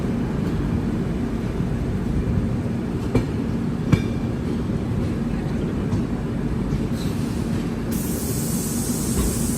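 A passenger train rolls along after pulling out of a station at night, a steady low rumble of wheels on rails with a few sharp clanks and a brief hiss near the end.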